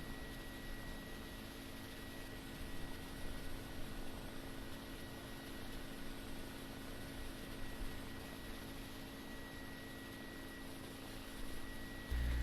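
The rotors of a Mini 500 helicopter run in overspeed while it lands. The steady, droning whine with constant tonal hum stays faint and distant, and no one talks over it.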